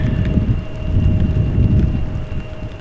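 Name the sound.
heavy rain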